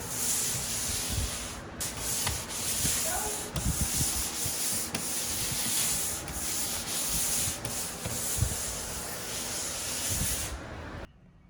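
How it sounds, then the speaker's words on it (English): A pole sander passes lightly over a sealed wall being prepared for pre-pasted wallpaper, giving a continuous close scratchy rubbing with rhythmic strokes and occasional knocks for about eleven seconds. "I give it a very light passing with a pole sander."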